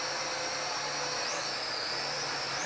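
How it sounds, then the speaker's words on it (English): HT F802 toy quadcopter with oiled gears flying close by, a continuous high-pitched motor whine and buzz that holds steady with slight pitch shifts, loud and alone. "So this is the one quadcopter that I'm seriously surprised how much better it flies."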